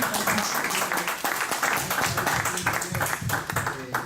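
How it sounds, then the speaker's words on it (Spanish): Applause from a church congregation at a ministry gathering, dense clapping filling the room steadily throughout with voices mixed in. "Un aplauso."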